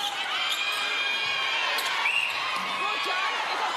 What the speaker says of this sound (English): Listen to the crowd totally disagree with the umpire.